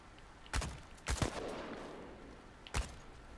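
Gunfire from an elite soldier in the video game Chernobylite: a few sharp, fairly faint shots spread over three seconds, one quick double burst among them, with no talking.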